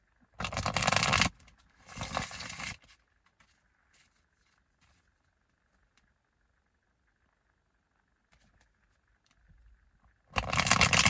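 A tarot deck is shuffled and split at close range, with two loud bursts of card riffling at the start and another at the end, separated by near silence with small taps.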